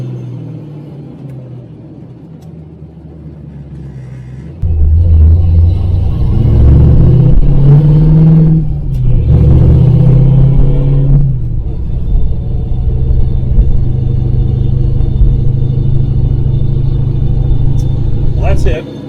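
A 1965 Ford Mustang fastback with a 289 V8 and four-speed manual, 3.0 gears, idles with a low rumble, then revs up loudly and holds a strong, steady engine drone while driving, close to the car.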